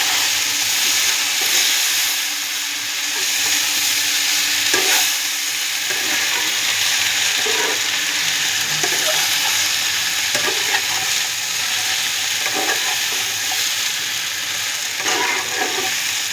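Water spinach (kalmi greens) fries in a pan with a continuous hissing sizzle, close and steady, broken by occasional soft stirring scrapes.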